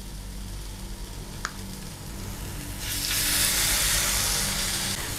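A veg burger patty fries in oil in a pan, a soft steady hiss swelling into louder, sustained sizzling partway through, close and without talk.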